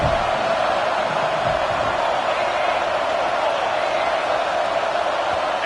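Dense, steady roar of a football stadium crowd at a Tennessee versus Missouri game, loud and unbroken for the whole stretch with no clear talk on top.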